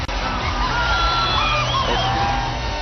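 A big stadium crowd at a celebrity cricket league final cheers and whoops continuously, a loud dense roar with shrill individual yells rising above it.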